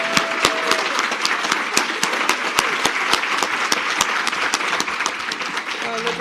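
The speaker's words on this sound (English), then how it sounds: "Another round of applause for these two marvelous men." A crowd at an annual meeting and awards ceremony gives a steady, close round of applause with crisp individual claps throughout, while voices talk over it.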